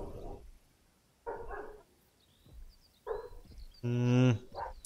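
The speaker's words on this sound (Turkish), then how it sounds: "Bizim köpek yine kudurdu" A few separate barks from a dog at a distance, spaced irregularly, with a louder, longer bark-like call near the end.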